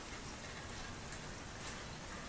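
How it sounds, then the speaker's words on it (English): Steady rain falls continuously with an even, dense hiss of drops and no voices, moderately close. "it's not raining that hard anymore"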